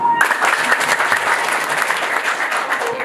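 A roomful of wedding guests applauds steadily, a thick even wash of many hands clapping at close range, with brief faint voices underneath.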